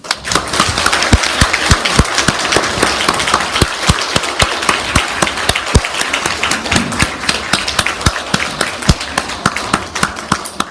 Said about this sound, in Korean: 박수는 있는데 환호가 없어요.